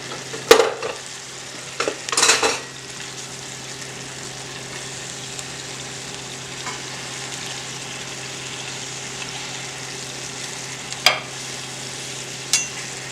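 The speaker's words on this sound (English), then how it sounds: "So as it states, this is a slow sear. So watch the heat. You don't want to burn the peaches." Peaches slow-sear in a pan over medium-low heat, giving a faint, steady sizzle throughout, broken by a few brief scrapes and clinks of stirring near the start and again toward the end.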